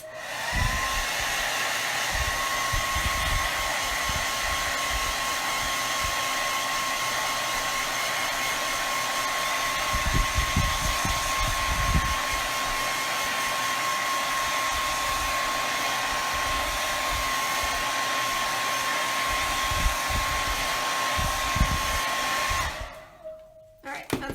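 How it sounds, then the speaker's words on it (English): A hair dryer blows continuously with a steady high whine and airy roar for over twenty seconds, then cuts off near the end. "let me dry this real quick, the top of this with my hair dryer"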